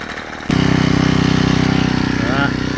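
A petrol hedge trimmer, used during a day of lawn mowing and garden jobs, bursts into life after a quiet moment and runs loud and close with a steady buzzing drone that wavers slightly near the end.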